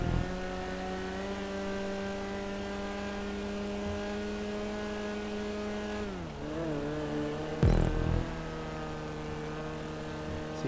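An Issi Classic car in GTA 5 Online drives with a steady droning engine tone that dips as it slows, then picks back up, with a short burst of noise midway, no talk over it.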